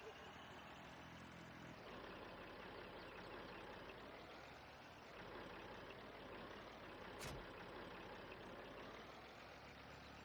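Tractor engine idling in Farming Simulator 19, a steady low mechanical rumble that runs unbroken throughout, with a brief sharp click partway through and a voice talking over it.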